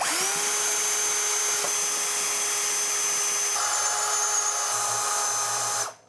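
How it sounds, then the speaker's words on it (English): A power drill steadily whines while drilling out rivets on a metal PC case, one continuous high-pitched run lasting several seconds, close and loud, before it spins down and stops. "get a drill with a decent sized drill bit"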